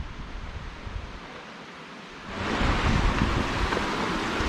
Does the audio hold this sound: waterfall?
yes